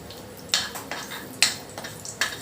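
A utensil stirs cumin seeds and a bay leaf frying in a pan, giving five or six distinct scraping knocks at an uneven rhythm over a faint background sizzle.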